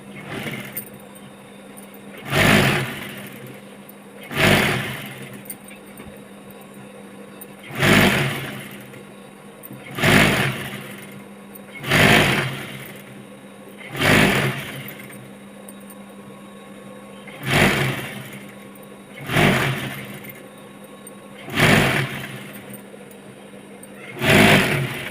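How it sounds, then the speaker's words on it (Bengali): Domestic sewing machine stitching the bottom hem of a nightie, running in about ten short bursts of a few seconds each with brief pauses between, fairly close and steady. "ডাউনটা সেলাই করলে কমপ্লিট আজকের নাইটি।"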